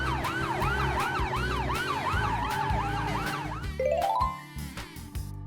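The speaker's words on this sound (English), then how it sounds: "Ambulance. Emergency medical vehicle transporting patients, equipped with life-saving equipment, sirens, trained paramedics, rapid response, operates day and night worldwide." An ambulance siren wails in rapid, regular up-and-down sweeps, loud and near over a vehicle's engine, then switches to a brief rising whoop before trailing off.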